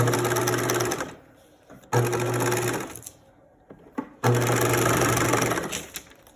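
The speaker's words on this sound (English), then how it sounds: "And back stitch. Keeping one toe off the edge, doing an edge stitch." A sewing machine edge-stitches a blouse with a keyhole back, running in three loud, steady whirring bursts separated by short pauses with faint handling clicks.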